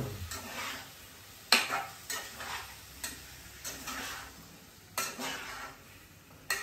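Tomato and potato curry being stirred in a pan, with a spoon scraping and knocking against the metal in repeated strokes over a low, steady sizzle. Close, with no speech.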